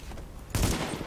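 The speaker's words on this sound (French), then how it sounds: "C'était un coup de feu?" A burst of gunfire in the video game The Division, one sudden loud crack or short volley that cuts in halfway through, with no voices.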